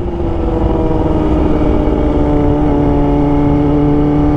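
Kawasaki ZX25R motorcycle exhaust revved hard while riding past a motorbike hangout, a loud, close, sustained high-pitched engine howl with steady pitch and no talk.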